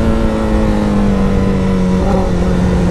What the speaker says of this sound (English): I'm a little rusty on my clutch wheelies with this bike